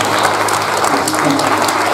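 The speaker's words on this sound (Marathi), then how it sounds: "जोरदार टाळ्या वाजून देवाला धन्यवाद द्या." Loud, continuous applause from a church congregation at a Christmas celebration, dense clapping filling the whole stretch at steady intensity with no voices on top.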